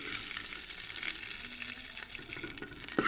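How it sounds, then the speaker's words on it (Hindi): A cup of ghee pours into a cooking pot (a degchi) at the start of a chicken and peas curry. It makes a faint, steady liquid trickle with light sizzling texture, ending in a small metallic clink, with no one speaking. "यहाँ हमने एक देचकी ली जिसमें हम डालेंगे 1 कप घी का"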